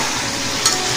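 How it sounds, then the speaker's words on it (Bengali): Beef frying in a wok gives off a dense, loud sizzle, close-up, with a single quick stirring scrape partway through and no voices. "এখন আমরা 5-6 মিনিট পরে এসে আবার নাড়াচাড়া করে নিলাম, না হলে মাংসগুলো পুড়ে যেতে পারে।"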